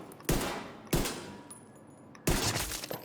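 Pistol shots from the TDI 'Kard' Custom in The Division 2, three loud sharp reports spaced about a second apart, each with a ringing tail, one followed by a faint metallic clink.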